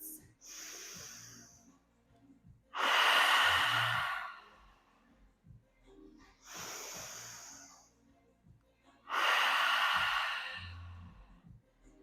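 Slow, deep breaths during a vinyasa yoga class, with two long audible exhalations alternating with quieter inhalations, close and steady with faint room sounds between.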